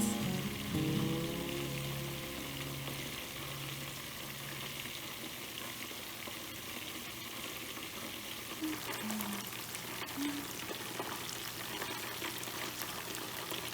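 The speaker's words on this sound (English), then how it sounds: "It's cooking. It's frying nicely." Continuous sizzling and crackling of chicken frying in hot oil, steady and close, with faint clinks partway through.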